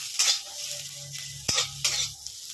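Chopped tomato fries in a pan with softened onions for a Bengali curry, sizzling quietly under a low hum while a spoon scrapes and taps the pan in a few sharp strokes.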